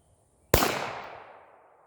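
A single loud, close Glock 34 pistol shot at a competition shooting practice range, a sharp crack followed by a decaying outdoor echo tail, no voices.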